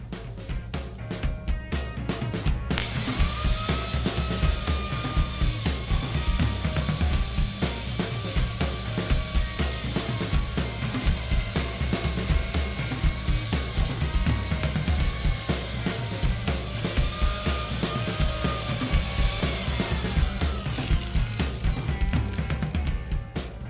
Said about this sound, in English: So this will fit onto any angle grinder directly like so, and I'll now use it to machine a hole straight down into a piece of wood.